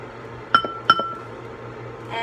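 Two bright glassy clinks close together as food is put into a glass bowl while cooking dinner in a home kitchen, with a faint low hum underneath and no talking.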